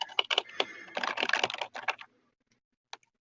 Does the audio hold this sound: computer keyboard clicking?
yes